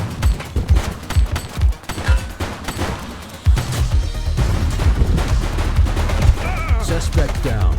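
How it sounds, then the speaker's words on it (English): Gunfire in the police game The Precinct comes as rapid bursts and single shots, loud and close, with some overlapping voices. "She's shooting!"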